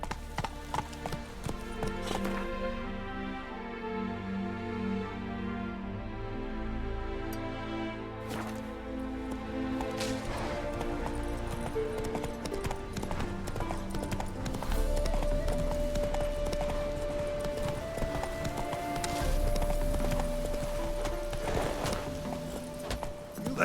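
Roach, the horse in The Witcher 3, gallops with rhythmic clip-clop hoofbeats under game music and ambient sound, continuing steadily throughout.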